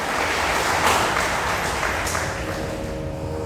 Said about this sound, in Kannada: ಅವರಿಗೊಂದು ಸಲ ನೀವು ಜೋರಾಗಿ ಚಪ್ಪಾಳೆ ತಟ್ಟಬೇಕು